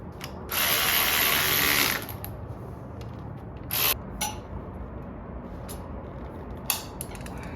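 A ratchet turning bolts to draw the clutch pressure plate onto the flywheel of a John Deere JD300/1020 tractor, heard as one long burst of clicking followed by several shorter bursts, all close and loud.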